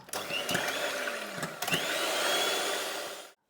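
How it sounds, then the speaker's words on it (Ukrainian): An electric mixer whips egg whites into stiff foam for a cheese paska, a steady loud whirring drone with a few brief clatters of the beaters against the bowl, cutting off abruptly at the end. "І тепер я збиваю вже самі останні білки до пишності, щоб була прям така от стояча піна"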